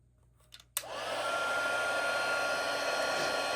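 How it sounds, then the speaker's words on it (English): After a couple of soft clicks, a heat embossing tool switches on to melt embossing powder, then blows a loud, steady fan-and-heater whoosh up close that continues without a break. "now we're going to use the heat embossing tool"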